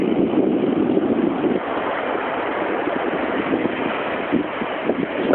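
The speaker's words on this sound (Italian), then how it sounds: "Il mare è un po' mosso." Rough sea surf breaks on a beach during shore fishing, a steady broadband wash with wind noise on the microphone, continuous and fairly loud with no speech.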